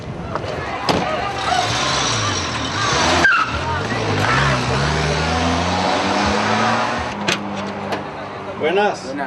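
A car drives off during a carjacking in Colombia, its engine rising and shifting as it pulls away amid a busy street wash, with voices mixed in.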